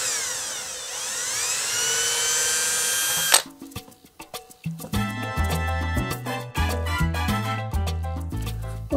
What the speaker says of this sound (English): I'll take my 3/32 inch drill bit and drill starter holes.